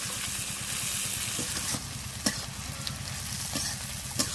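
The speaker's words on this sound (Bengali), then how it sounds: "এবার সবগুলো একসাথে ভালো করে ভেজে নিতে হবে।" Garlic, onion and chopped tomato frying for a mutton curry with potatoes, giving a steady close sizzle with a few light stirring clicks and taps, no voices.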